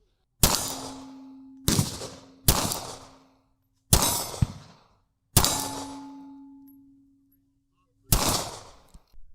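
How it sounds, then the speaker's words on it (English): Six sharp gunshots from a small Bodyguard 380 pistol, fired at steel targets at varying ranges, some followed by a bright metallic ring of the struck plate, spaced irregularly over several seconds. "I'm going to put some shots, or try to put some shots on all the different steel"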